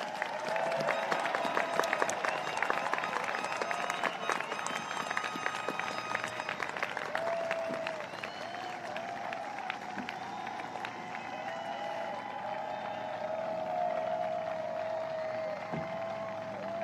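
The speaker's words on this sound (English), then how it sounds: "let's give them one more round of applause" A round of applause at an outdoor high school graduation ceremony, scattered clapping and some cheering spread across a distant crowd, steady at moderate level and fading slightly toward the end.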